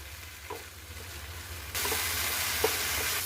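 Steady sizzling of tomato and onion frying in a pan, loud and close, with occasional soft stirring clinks and a jump in intensity partway through.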